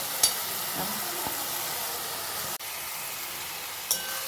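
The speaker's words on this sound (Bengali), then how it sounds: "ভালো করে একটা নাড়াচাড়া করি এটা দিয়ে" Coriander rice sizzles as it is stirred and fried in a pan, a steady close hiss of frying broken by a few sharp clicks and scrapes of the spatula, with no talking.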